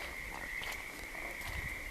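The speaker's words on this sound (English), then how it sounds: "Remember these frogs." Frogs croak steadily in a forest during a spring walk, a sustained chorus that stays fairly faint and even with no voices over it.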